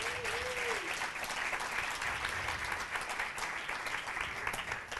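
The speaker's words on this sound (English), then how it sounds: "do you want to give Karen a big round of applause?" A crowd at a talk gives steady, even applause after a question session, a soft and fairly distant wash of clapping that keeps going throughout.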